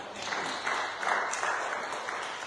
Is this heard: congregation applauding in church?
yes